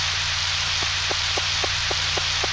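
Steady rain hisses across the whole stretch in the Nintendo 64 farming game Harvest Moon 64, with a low droning tone underneath and faint, evenly spaced soft ticks repeating through it.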